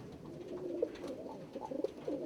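A yellow laced starling pigeon hen gives a few soft, low coos in short, irregular bursts, faint and near, against quiet room noise with no speech.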